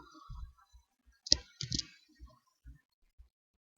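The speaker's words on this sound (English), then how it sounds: "click on the word art, select any of the word art whichever you want, and type here a timetable" Computer mouse clicks and keyboard taps while working in MS Word, a few sharp isolated clicks and light taps spread out with quiet gaps, close and fairly faint.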